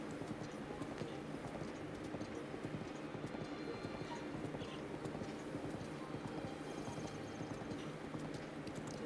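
A horse in Zelda: Breath of the Wild clip-clops along with steady, rapid hoof beats, continuous throughout under a busy mix of game sound, moderately close.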